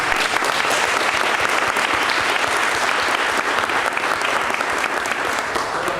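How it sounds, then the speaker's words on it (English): A room full of people at a county school board meeting breaks into sustained, loud applause, dense steady clapping that holds evenly for the full six seconds with little voice beneath it. "please give them a round of applause."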